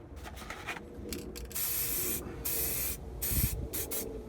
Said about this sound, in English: we're just going to spray them.